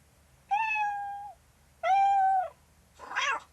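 A Mercedes in-car voice assistant plays a cat imitation: two drawn-out, clearly pitched meows, each about a second long, followed by a short, rougher noisy cry, all close and alone over a faint low hum.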